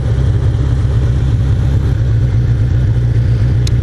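A 1981 Honda CB750F motorcycle engine idles steadily and loudly after a carburetor sync, a continuous low, even throb with no talk over it.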